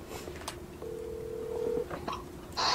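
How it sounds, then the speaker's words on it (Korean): A telephone is dialed for an on-air call in a Korean talk broadcast studio: a few short key tones, then a longer steady tone, with a brief click near the end and no talk. "잠깐만 전화하겠습니다"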